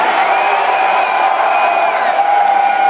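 A concert crowd at a show at the Gramercy Theater in New York cheers steadily for the guitarist, with sustained whoops and shouts forming a dense, continuous roar that barely dips across the few seconds.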